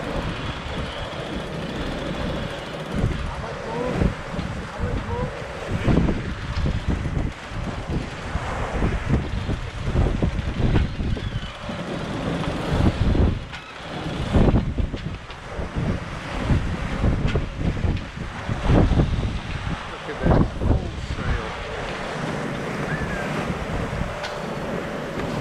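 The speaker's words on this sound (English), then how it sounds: "We are traveling with sails." A catamaran sails in Croatian waters between Stari Grad and Vis, with strong wind buffeting the microphone and waves rushing and splashing against the hulls in a continuous, fluctuating roar and no talking.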